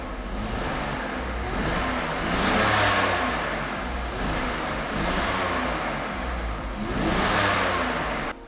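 A BMW E46 engine revs under the gas pedal during a fuel filter change, with the sound swelling and falling in several sustained, loud surges over a steady idle.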